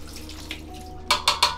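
A small measuring container for mixing C-41 film developing chemicals is rinsed under a running tap, a soft stream of water followed by three quick splashing bursts up close.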